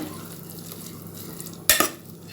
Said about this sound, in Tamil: போட்டு கிண்டி விட்டுருங்க.